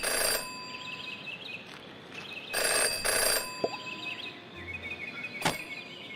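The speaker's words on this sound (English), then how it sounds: "In her short time as a detective, Jenny had learned never to ignore a ringing phone." A telephone rings in the Jenny LeClue video game, sounding in several loud bursts of bell-like trilling separated by gaps, with soft ambient game sounds and faint insect-like chirps in between.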